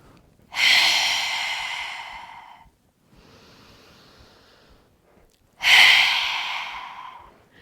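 During yoga exercise, deep breaths come close and clear: a strong, long exhale, a quieter drawn-in inhale, then another forceful exhale.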